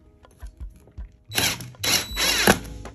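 A drill driving a T45 Torx screw into the plywood subfloor of a Mercedes Sprinter van: a few light clicks, then two short bursts of whirring and grinding as the screw bites down.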